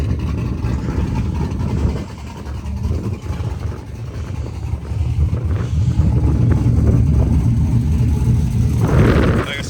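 A Denali truck's engine idles with a newly swapped Tick Performance cam, a steady low rumble outdoors, buffeted by wind noise on the microphone, with a brief rise in intensity near the end.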